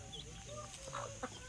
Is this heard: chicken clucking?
yes